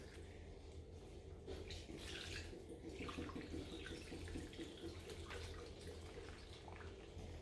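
Water mixed with flower food is poured into a container holding floral oasis for a hat box flower arrangement, giving a steady, close splashing and gurgling flow that runs for several seconds without any talking.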